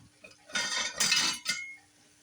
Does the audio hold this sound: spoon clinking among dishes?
yes